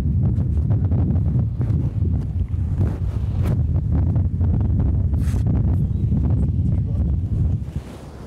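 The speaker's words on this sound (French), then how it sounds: "Il y a toujours du vent là ?" Outdoor wind gusts rumble and buffet the microphone steadily for several seconds, a constant low roar with a faint watery wash behind it, easing off at the end.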